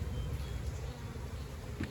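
Honey bees humming around an opened hive at an apiary during harvest, a continuous low buzzing drone at moderate volume with no talking.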